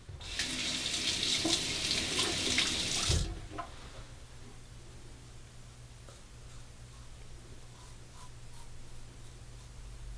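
Tap water runs steadily and fairly loud for about three seconds while a face is rinsed during a wet shave, then cuts off, leaving quiet low room hum with faint small clicks and handling sounds.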